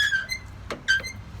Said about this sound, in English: other than that loud squeaky noise, which is only a problem for